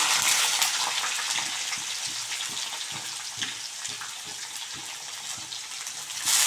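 Onions fry in a pan over a slow flame for lemon rice chitranna, giving a steady, close, hissing sizzle that continues evenly throughout with no talking.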